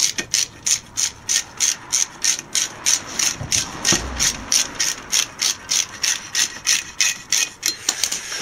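Socket ratchet working on the front wheel bearing of a 1992–1999 Pontiac Bonneville, a close, crisp run of evenly spaced clicking bursts, about two to three strokes per second, with a brief dull knock midway.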